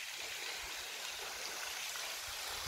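A waterfall and stream rush in a steady, loud, broadband roar with constant flowing water noise throughout and no voices.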